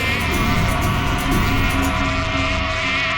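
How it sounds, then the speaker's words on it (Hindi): Angry buzzing from a swarm of disturbed bees in a forest, a dense continuous drone that fills the whole stretch and stays loud and close. "किसी ने मधुमक्खी को छेड़ दिया क्या?"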